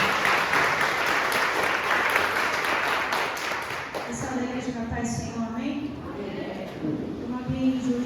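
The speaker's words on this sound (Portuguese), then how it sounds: "Receba, Senhor Deus, com as palmas de vitória" A church congregation at a family service claps in dense, steady applause that fades after about four seconds, giving way to voices speaking and singing.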